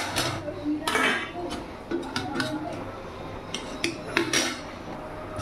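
A metal utensil clinks and taps against a pot several times in irregular bursts while someone checks whether a potato has boiled soft for a Bengali fish curry, with faint speech in between.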